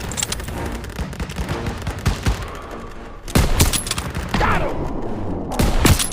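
Dense battlefield gunfire in the WWII-era video game Call of Duty WWII, a steady roar of distant and mid-range rifle and machine-gun fire punctuated by several sharp, louder close shots.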